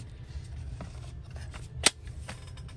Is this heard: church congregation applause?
no